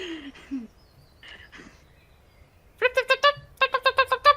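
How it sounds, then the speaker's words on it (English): An otter gives two rapid series of high, bright chirps, several quick notes each, close and loud. A few brief voice-like sounds come before them. "you just hear a chirping otter"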